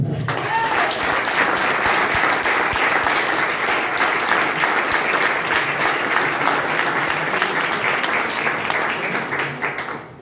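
An audience at an event in Comines-Warneton gives sustained, dense applause, many hands clapping steadily for about ten seconds before it starts to thin out at the end.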